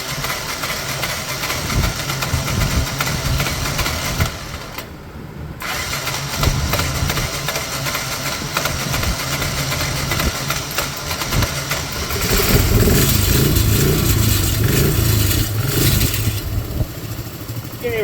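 A John Deere ATV engine, just cleaned of carburetor gunk, cranks and catches, then runs in a steady loud idle with a brief dip before settling and growing rougher and stronger near the end.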